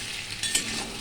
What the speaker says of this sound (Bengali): দিয়ে একটুখানি নাড়াচাড়া দিলাম